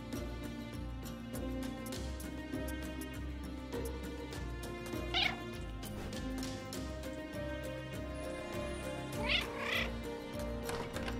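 Cat meowing in the Catmaze video game, two distinct rising meows several seconds apart over a steady background of game music.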